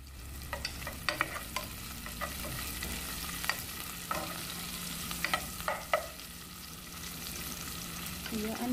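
Onion sautéing in a pan for chicken tinola, a steady low sizzle broken by scattered clicks and scrapes of a utensil stirring, with no talking.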